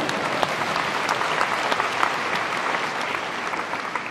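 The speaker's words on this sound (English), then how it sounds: "You can clap for that." Sustained audience applause fills a tech conference hall, dense and steady clapping from a large crowd with no speech over it.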